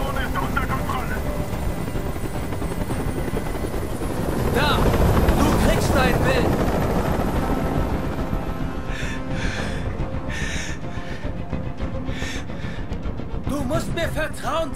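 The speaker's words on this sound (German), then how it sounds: "Dieser Helikopter soll verschwinden." A helicopter in the video game Detroit: Become Human drones steadily overhead with its rotor thrumming, loud and continuous, while voices speak over it at moments.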